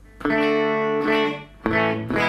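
An electric guitar plays through a Sweet Blackberry amp with the spring reverb at zero, giving dry, sustained chords that ring out, pause and are struck again, close and clear.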